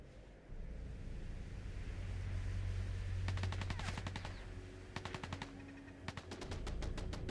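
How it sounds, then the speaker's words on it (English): Automatic turret gunfire raking raiders in Fallout 4, sounding as rapid bursts of game gunshots over a steady wind-like rumble, with three separate volleys in the second half. "See, the turrets are attacking the raiders."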